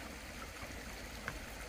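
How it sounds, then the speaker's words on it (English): A small waterfall in a rocky riprap creek runs with a steady, soft rushing wash throughout, continuous and fairly faint, with no voices over it. "you can actually hear the water running there, a nice little waterfall"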